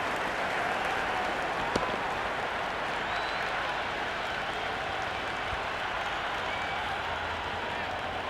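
Steady crowd applause and cheering in a cricket video game match, a dense continuous wash of clapping at moderate level that persists for the whole stretch, with a brief sharp click near the start.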